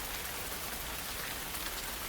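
Gentle rain falling in a dense, even patter, close and steady with no pauses or voices.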